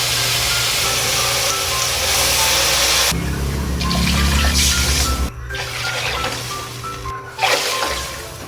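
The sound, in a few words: adding water to the pan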